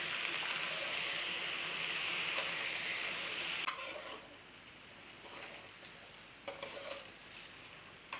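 Raw banana pieces sizzle in a hot pan for a curry, a loud steady frying hiss with occasional stirring clatters that fades to a quieter crackle halfway through, no voices present.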